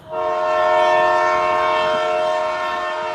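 A train on the line from Pollachi to Palani sounds its horn in a long, loud, sustained blast with a steady rail rumble beneath, heard alone without talk.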